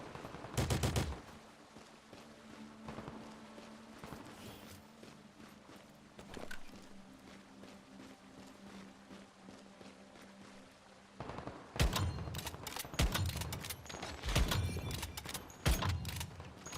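Gunfire in the survival shooter Once Human, bursts of rapid shots at the start and again in dense volleys near the end, with quieter ambient game sound and movement between them.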